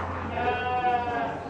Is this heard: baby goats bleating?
yes